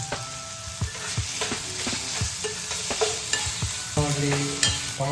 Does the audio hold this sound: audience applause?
no